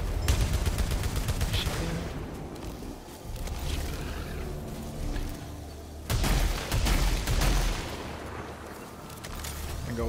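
Weapon alternate fire in the video game Returnal, repeated loud blasts and rattling bursts in two main volleys with booming low-end tails across a dense game soundscape.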